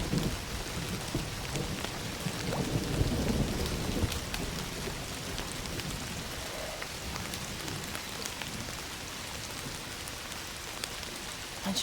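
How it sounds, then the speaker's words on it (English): Steady rain pours in Indiana Jones and the Great Circle, a dense, even hiss of drops with deeper rumbling swells early on, continuous and fairly loud throughout. "Don't you love rain?"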